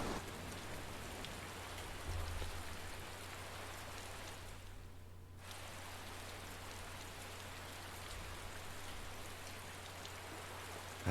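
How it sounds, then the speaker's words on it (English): Rain falling in the video game Tales of Berseria, a steady soft hiss of downpour that continues evenly throughout, briefly dipping out for a moment midway, with no voices. "Oh goody, it's raining."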